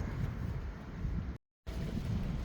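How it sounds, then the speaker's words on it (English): Low, steady wind rumble across the microphone, broken by a brief moment of total silence before the blustery noise resumes. "It's too windy"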